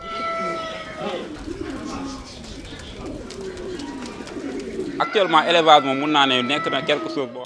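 Pigeons coo and flutter amid a busy agricultural fair crowd in Senegal, with people talking nearby; the bird sounds grow louder and clearer toward the end.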